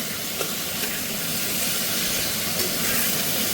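Ridge gourd and potato pieces with turmeric fry in a pan, giving a steady, close hiss of sizzling oil that holds evenly throughout, with no voices.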